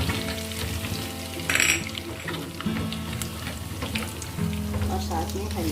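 Cumin seeds and golden-browned ginger sizzle in hot desi ghee, a close, steady frying hiss with a brief louder burst of spatter as the seeds go in.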